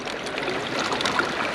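A river runs beside a gold panning site in the UK, giving a steady, close, broadband rush and babble of flowing water with no voices over it.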